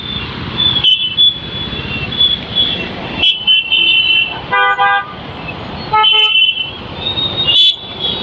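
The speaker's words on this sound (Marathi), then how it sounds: "लाईव्ह ट्रॅफिक आहे मित्रांनो" Car horns honk at a busy, unmarked junction in the Baramati MIDC industrial area, where live road traffic passes with no speed breakers or signals. Loud horn blasts come in several separate bursts over a constant rumble of engines.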